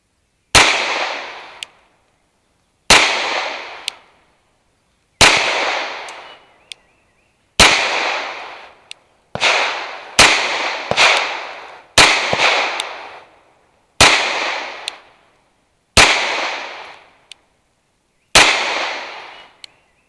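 CZ Shadow 2 Carry pistol fired at a shooting range, about ten sharp, loud shots spaced roughly two seconds apart, each with a short ringing decay, and a few faint clinks of spent brass between them; no talking.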